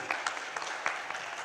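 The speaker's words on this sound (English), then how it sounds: "Wow, can we give her a round of applause," A conference audience claps on the main stage at the TIACON25 CTO of the Year final: a dense, steady patter of many hands from a sizable crowd, fairly loud and continuous for the whole moment, with no voices over it.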